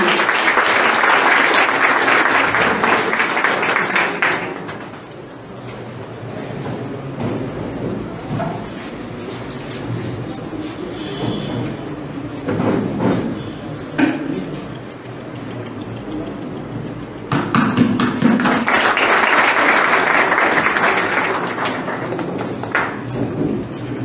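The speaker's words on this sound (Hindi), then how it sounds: "आप सभी लोगों की तालियों की गड़गड़ाहट उठनी चाहिए" Audience applause at a legal literacy and awareness program swells loudly, fades into a quieter stretch of scattered clapping and murmur, then surges back strongly before tapering off.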